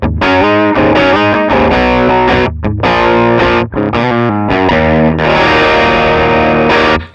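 A distorted electric guitar runs through a Sonicake pedal with a Vox AC30 2x12 cabinet impulse response, chugging through loud rhythmic chords with brief gaps, then a long sustained chord.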